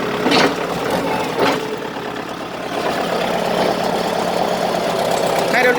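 A 45-horsepower 2011 Kubota L4508DI tractor engine idles nearby with a steady, mid-pitched diesel rumble, and a few sharp clicks and knocks sound near the start.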